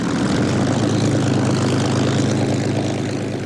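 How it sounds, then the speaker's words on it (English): A Supermarine Spitfire of the Memorial Flight at Coningsby taxis at an airshow, its propeller engine running with a loud, steady, throbbing drone close by, unbroken and with no voices. "taxis a Spitfire of the Memorial Flight at Coningsby to delight an airshow audience"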